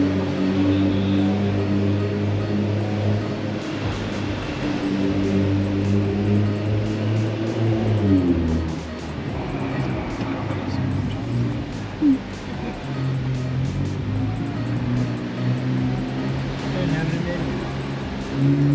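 A BMW 435i M-Sport with an Akrapovic exhaust runs with a steady, loud engine drone, its pitch shifting and climbing around the middle as the turbo spools up, then settling into a sustained hum.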